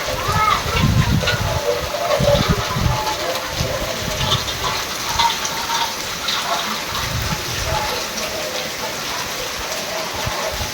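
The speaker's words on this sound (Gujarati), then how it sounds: "પાછો વરસાદ ચાલુ થઈ ગયો" Steady village rain falls with dense splashing and hiss, while low voices murmur underneath.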